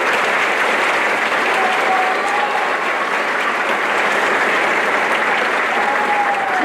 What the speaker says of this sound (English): Please give our staff a round of applause.